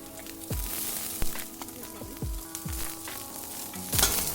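Cumin seeds and garlic frying in about two teaspoons of hot oil, a soft steady sizzle with scattered crackles and a few clinks of a spoon, heard alone at moderate level.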